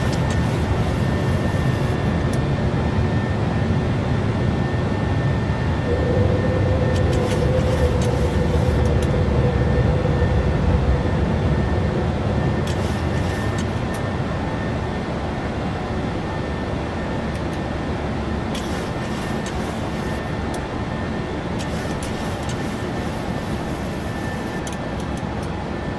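PMDG airliner in a flight simulator game accelerating down the runway for takeoff, a sustained jet engine roar with a steady whine running underneath and a few brief bursts of higher noise, with no talking.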